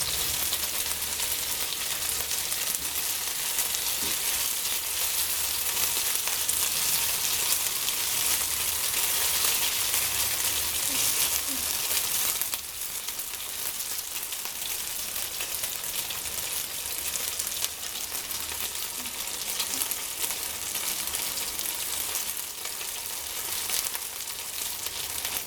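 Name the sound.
meatballs frying in oil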